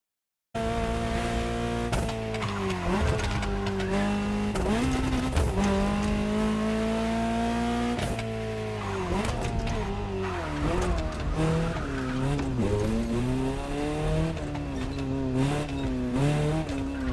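A Ferrari supercar in the Motorfest racing game drives at speed, its engine holding a loud, steady drone with repeated rising and falling revs through gear changes and occasional tire squeal, and no voices.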